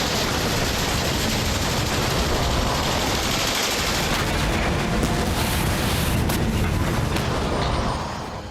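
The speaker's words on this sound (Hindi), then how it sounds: "गोलियों की तड़तड़ाहट से पूरा देश थर्रा उठा है।" Dense rattling gunfire in a war zone in Afghanistan, a continuous loud crackle of rapid shots with a noisy, blast-like wash that holds steady for about eight seconds.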